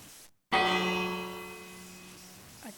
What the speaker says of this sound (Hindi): मैंने 1 घंटी बजाई और सभी अपने घर की ओर जा रहे हैं